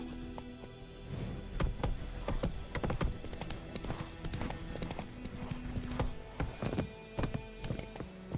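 Horse hooves clip-clop at a steady galloping rhythm in The Witcher 3, close and prominent over a game soundscape, with an occasional whinny and no speech.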